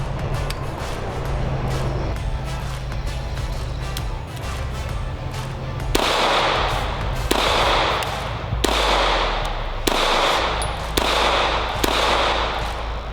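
A Tisas USA double-stacked pistol fires a string of about seven loud, sharp shots at an outdoor range, spaced roughly a second apart after a stretch of steady background noise, with no talk over them.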